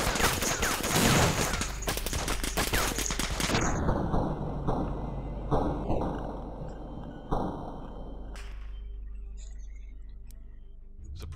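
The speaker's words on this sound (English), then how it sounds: "Suppressing fire." Suppressing fire in the video game Breach & Clear: dense, rapid bursts of gunfire rattle for several seconds, then thin out into scattered sharp clicks and shots.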